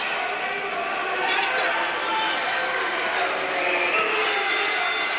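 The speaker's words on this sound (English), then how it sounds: "the crowd voices its displeasure as the bell rings to end this fight" A boxing arena crowd at a Mark Johnson vs Luis Rolon fight voices displeasure as the final bell rings, producing a steady, loud wash of booing and murmuring throughout, with a faint bell-like ring near the end.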